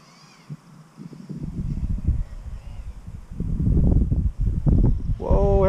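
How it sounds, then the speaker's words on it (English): Outdoor wind buffets the microphone while an RC aircraft is being flown. Low, gusty rumbling bursts build and grow louder toward the end, and a brief higher tone appears at the close. "Whoa, here comes the wind."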